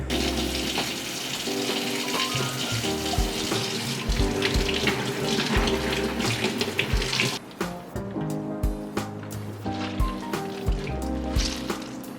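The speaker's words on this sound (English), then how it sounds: "And we're just gonna now rinse this off. We're gonna give it a nice wash." Tap water runs steadily over soaked seaweed being rinsed for miso soup, a continuous splashing stream with clinks and handling knocks throughout.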